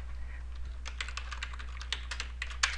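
Keys tapped on a computer keyboard while a plugin name is entered into a web search bar, a quick irregular run of close, light clicks over a steady low electrical hum, with no voices.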